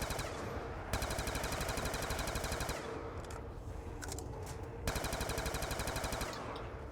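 Sustained rapid automatic gunfire in Call of Duty Black Ops 2 Nuketown Zombies, loud, close and steady, with short breaks between long bursts.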